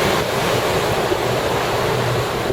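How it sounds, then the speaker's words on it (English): Loud, gusty wind roars across the microphone in a constant rumbling rush, with no voices. "It's kind of windy"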